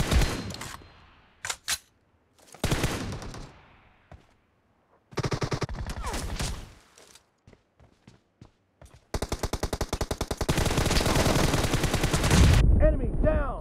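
M416 assault rifle spray in BGMI, with short bursts at first, then a long, loud sustained stream of rapid automatic fire near the end, and brief voice moments between bursts.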